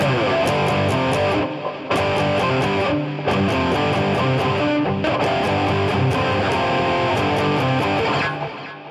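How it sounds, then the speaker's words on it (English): An electric guitar played live in a shred session runs through an echo effect, with a loud, distorted tone, repeated notes trailing into delayed repeats, and short pauses between phrases. "That's an echo."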